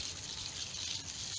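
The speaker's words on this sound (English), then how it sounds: "I go for the back cleaning through the tap water and through a pipe." Tap water runs from a pipe onto a window air conditioner being washed, a steady hissing spray and gush of water that continues alone, fairly faint.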